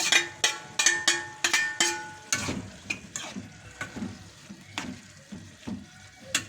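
Potatoes and eggplant dropped into hot frying oil for a simple Friday breakfast, giving a series of sharp splashy crackles followed by a steady close sizzle with occasional stirring clatter.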